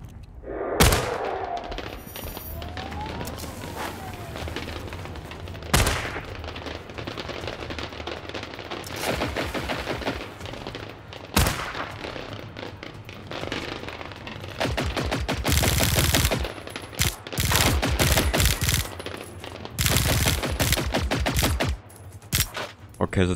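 Rapid bursts of automatic gunfire from a weapon in the shooter game Generation Zero, sharp and loud, repeating in clusters with short pauses and heavier volleys toward the end.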